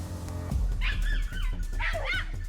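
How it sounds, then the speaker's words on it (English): A hound bays and barks in short bursts during a wild boar chase in a forest, with yelping cries over a steady low rumble and rustling. "The moment the hound's frantic barking erupted, Leon immediately rushed forward."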